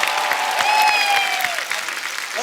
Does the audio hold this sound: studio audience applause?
yes